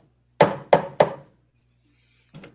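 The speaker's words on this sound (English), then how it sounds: "He actually ends up walking up and giving it a little bit of a knock." Three firm knocks on a wooden back door, close and evenly spaced, then a pause and two fainter, softer taps near the end.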